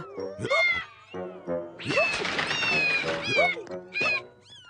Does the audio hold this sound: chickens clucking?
no